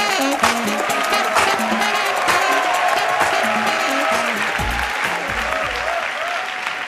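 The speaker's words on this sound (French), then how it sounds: "un tonnerre d'applaudissements pour Moustique" A theatre audience at a comedy show applauds steadily for a performer who has just been introduced, a dense, sustained wash of clapping that stays loud and even throughout with no pause.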